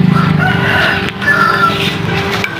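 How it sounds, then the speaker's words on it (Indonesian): Chickens in a coop cluck loudly and close by, with a rooster crowing over the continuous flock noise. "Kandang ayam."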